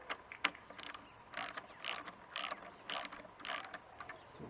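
A spring compressor is wound down on a Honda CT110 motorcycle's rear suspension, producing a steady series of about eight sharp ratcheting clicks with metallic creaks between them, close and clear.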